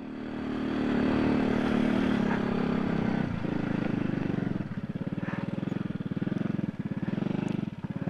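Motorcycle engine laboring in first gear up a steep hill on a rural road, a loud, close, low throbbing drone that sags and pulses as the revs drop, with brief dips in power.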